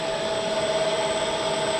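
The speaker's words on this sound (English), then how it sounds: "Just letting the drill run to" A power drill runs continuously to cool while boring a David Brown tractor part, a steady high whine, close and unbroken, with no voices.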